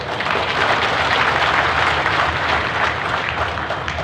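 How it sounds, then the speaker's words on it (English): Applause from a large crowd at a Trinamool Congress political rally, a steady dense wash of clapping that holds at full strength throughout. "That calls for a big round of applause."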